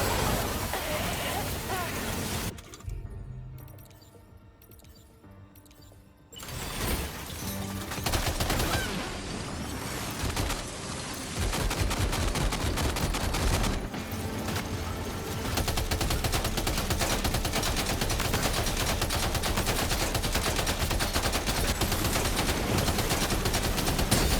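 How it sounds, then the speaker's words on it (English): Gunfire in the video game Death Stranding 2: a dense, continuous barrage of rapid shots, brief and quieter at first, then sustained and loud across the rest of the scene. "Open fire."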